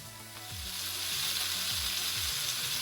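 Fresh tomatoes and garlic fry in a pan for passata, giving a steady, loud, close sizzle that builds in the first half second and then holds, with no one speaking.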